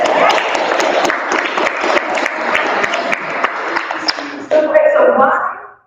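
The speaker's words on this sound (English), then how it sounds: "And that deserves an applause." An audience bursts into loud, sustained clapping at a community gathering, a dense wash of hands that dips briefly before swelling again and fading out at the end.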